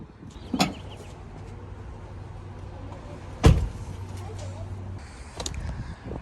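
Someone unlocks and opens a Tesla Cybertruck at a hotel, with a sharp mechanical clunk, a louder thud midway and a low motor hum in between, plus faint rustling.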